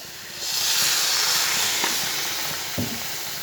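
Water poured into a pan of frying semolina pulao, setting off a loud, steady sizzling hiss of steam that swells quickly and holds for several seconds, with a few small pops underneath.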